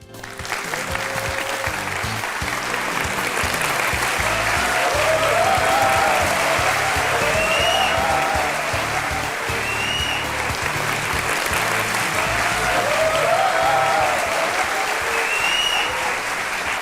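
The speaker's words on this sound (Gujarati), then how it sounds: "તો આ તાળીઓ વાગતી રહેવી જોઈએ." A studio audience at a Gujarati courtroom-style TV talk show applauds a guest's entrance with dense, steady clapping close by that holds for about seventeen seconds without fading.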